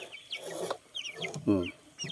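Chickens meant for slaughter cluck in short, close bursts, with a few sharper squawks breaking through the pauses.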